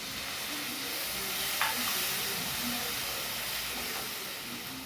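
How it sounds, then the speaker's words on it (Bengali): Mustard, green chilli and ginger paste fries in a pan for a tilapia curry, giving a continuous loud hiss and sizzle with a brief scrape of stirring partway through. "আমি সর্ষে মশলা দিলাম, সর্ষেটা বেশি ভাজবো না, তিতো হয়ে যাবে।"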